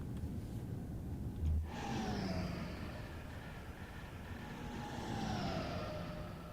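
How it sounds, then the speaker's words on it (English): Acela power cars whooshing past in the Train Sim World 3 video game, two rising and falling passing swooshes over a steady rumbling engine drone, with a brief low thump between. "Love that noise as the power cars whoosh by."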